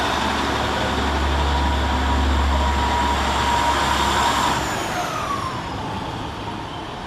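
Transport for Wales unit 152.59 departs Cardiff Queen Street station with a sustained rumble and a low drone that fades after about five seconds, leaving lighter rolling noise.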